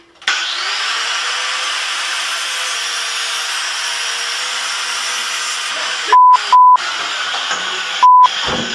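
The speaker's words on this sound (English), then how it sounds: "To use my angle grinder to sharpen the spoon." An angle grinder spins up and runs with a steady loud whine while sharpening a spoon, then several short electronic beeps cut across the end.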